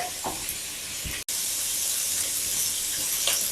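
Mushrooms spread out in a hot pan with the heat turned up, sizzling in a steady, loud hiss that runs almost without break, with one brief cut.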